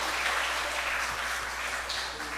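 Church congregation clapping during a Sunday worship service, welcoming back a member after surgery; steady, dense applause filling the room throughout, fairly soft and even.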